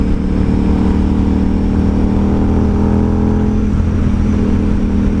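A 2012 KTM 990 SMT supermoto touring motorcycle heard from the rider's seat, its engine loud and steady with a brief dip and pickup as a gear is shifted, plus continuous wind noise.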